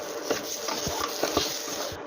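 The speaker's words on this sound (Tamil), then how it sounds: "துருவின தேங்காயை ஆட் பண்ணிவிட்டு அதையும் சேர்த்து ஒரு வதக்க போகிறோம்" Repeated scraping and rubbing strokes of a spoon stirring grated coconut in a pan, close and moderately loud, in an irregular rhythm.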